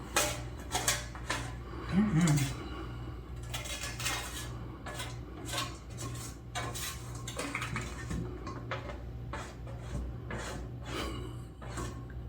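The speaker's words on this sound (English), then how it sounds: "I ain't gonna leave this roasted garlic on the pan. We're scraping that off." A metal utensil scrapes roasted garlic off a sheet pan in repeated short, rough strokes with clinks and clatters, close and fairly loud, sometimes with brief talk between.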